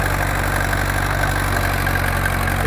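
A County Super 4 tractor ploughs heavy, damp clay-loam soil while smoking slightly. Its engine drones at a steady, continuous low rumble with no breaks and no voices.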